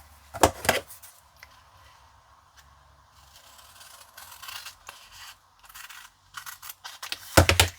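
Scissors cut card stock for a pop-up box card, giving close crisp snips and paper rustles in short bursts separated by quiet pauses.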